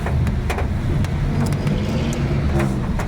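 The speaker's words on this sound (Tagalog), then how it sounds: "medyo traffic dito" Car traffic rolls past on a busy street, a loud, steady engine and road rumble close by with scattered clicks and knocks over it.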